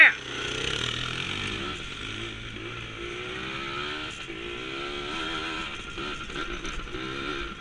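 A small dirt bike engine buzzes and revs throughout a ride, a raspy two-stroke-like whine rising and falling with the throttle, close and continuous, with brief voices over it.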